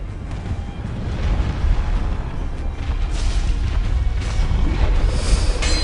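Fire Sage boss explosions in Dark Souls, a continuous rumbling barrage of booming blasts that swells and churns for several seconds, loud and dense with no clear gaps.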